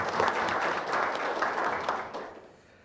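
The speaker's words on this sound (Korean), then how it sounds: "우리 의원님께 다시 한번 큰 박수 부탁드리겠습니다." Audience at a National Assembly forum in Korea applauding a lawmaker, a moderate burst of clapping from a seated crowd in a hall that holds for about two seconds and then fades out.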